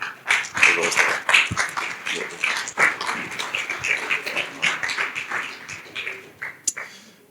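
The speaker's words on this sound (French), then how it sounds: "Applaudissons le Seigneur pour sa parole." A church congregation claps together after a sermon, a dense and steady run of hand claps mixed with voices and shouts, fairly close and loud throughout.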